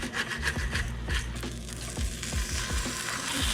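Steak sandwich fillings sizzle in a pan over very low heat, a close, steady frying hiss broken by soft, repeated knocks and thumps.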